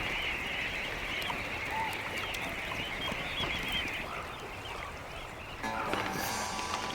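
A flock of migrating geese honks continuously over a dense, noisy background, with many overlapping calls at a moderate distance and no voices.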